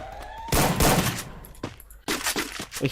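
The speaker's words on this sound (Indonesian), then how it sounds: "Udah mulai menembak tuh" Gunfire from a shooter video game tournament match: loud bursts of rapid shots and a dense fusillade, with sharper single cracks and pauses between volleys.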